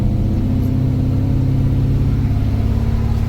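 Classic car engine running during a ride in Melbourne, Australia, a steady, loud low drone with a constant hum from inside the car and no voices.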